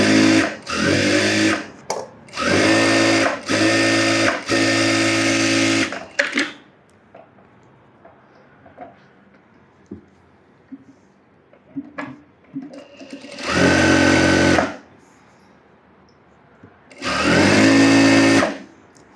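Sewing machine running edge stitches along the lining of an umbrella frock, loud bursts of rapid stitching in several runs, pausing between for quiet handling, then two more separate bursts later.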